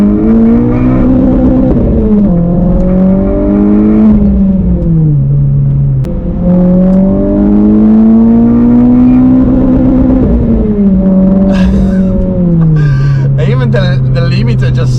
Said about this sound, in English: It just stays there banging the limiter.